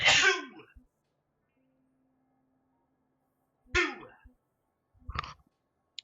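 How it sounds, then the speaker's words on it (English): A single sharp human sneeze bursts out close up, followed after a quiet gap by a second short nasal sneeze-like burst and a brief throaty sniff, with near silence between. "And I need to sneeze."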